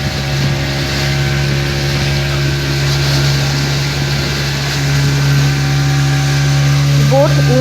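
A boat engine drones steadily with a low constant hum on a trip from Havelock toward Elephanta Island in the Andaman islands, loud and close throughout, with some vocal sounds near the end.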